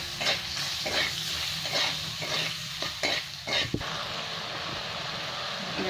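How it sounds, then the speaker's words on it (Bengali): Spice masala fries with a splash of water for Bengali khichudi, making a loud, dense sizzle with rhythmic scraping stirs of a spoon across the pot. "এবার একটু জল দেবো, জল দিয়ে মশলাটা ভালো করে একটু ভেজে নেবো।"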